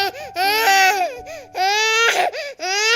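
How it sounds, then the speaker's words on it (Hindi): A played recording of an infant crying sounds loud and close, in several wailing bursts with short gasping breaks between them. "बच्चा रो रहा है"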